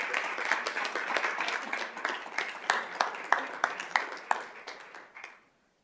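Scattered applause from a modest audience at a school governing board meeting, individual claps audible as it gradually thins out and stops abruptly near the end.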